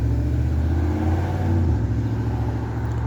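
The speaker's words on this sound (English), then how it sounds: "it's loud out here, cars out here." Cars driving past outdoors with engines revving, a loud, continuous low rumble and mid-pitched engine drone that swells and fades as vehicles pass nearby.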